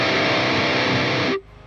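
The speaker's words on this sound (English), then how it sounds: "delay gone immediately and it just sounds a bit abrupt." A guitar played through an HX Stomp with delay in a metal tone rings loud and distorted, then the sound cuts off abruptly with no echo tail, leaving near silence.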